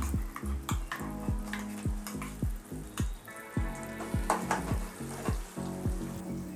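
Ground chutney paste for kara chutney sizzles and spatters in a hot pan while a spoon scrapes and stirs in a steady rhythm, close up with no talking.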